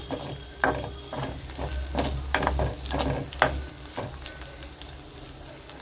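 Curry leaves crackle and sizzle in hot oil with frying dried vaalai fish and garlic, heard close up with repeated stirring scrapes and clicks over a steady fry and no voices.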